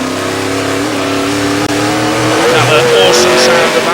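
A V8 stock car engine roars loud and close at race pace, revving steadily and climbing in pitch with faint tire squeal, while a commentator speaks over it.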